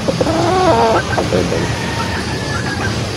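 A seven-month-old Possum White over yellow-legged hatch gamefowl rooster gives a few close, fairly loud clucks early on, followed by faint bird calls over steady background noise.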